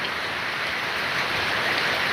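First monsoon rain pours in a dense, steady hiss, constant and close with no voices or pauses.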